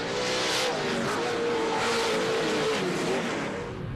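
Off-road Pro 2 race trucks roar around a dirt track during a 2009 LOORS championship race, a continuous loud wash of engine noise that fades slightly at the end, with no talk.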